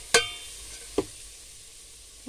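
A pepper-seasoned salmon head lands in a hot pan with a sharp, loud hiss of oil. A second, smaller sizzling pop follows, then a faint crackle, and a last brief spatter.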